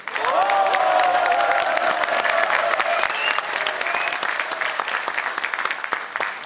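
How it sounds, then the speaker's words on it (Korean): An audience applauds at the launch ceremony of the Future United Party (미래통합당), with dense, sustained clapping that swells and then slowly thins, with scattered shouts mixed in. "대한민국의 운명을 바꿀 여러분의 위대한 결단에 더욱 큰 박수 한번 보내드립시다."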